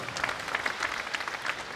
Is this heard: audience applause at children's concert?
yes